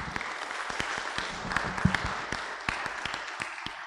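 Audience at an academic conference session on disaster management applauding the presenters, a fairly faint, sustained patter of individual claps heard from a distance in a large room.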